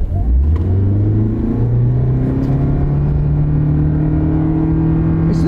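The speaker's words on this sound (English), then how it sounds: "Let's give it the gas and see what happens." A Toyota Prius hybrid with a CVT accelerates hard, its engine rising in a loud, steady droning whir heard up close from inside the cabin for the whole stretch, with no talking.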